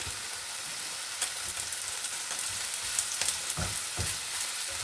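Egg and sausage frying in a pan over turned-down heat, giving a steady close sizzle and crackle with scattered pops and a few soft knocks, no talking.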